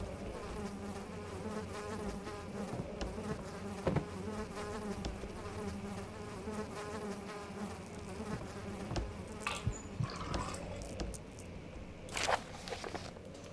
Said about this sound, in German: Warum sind hier Fliegen?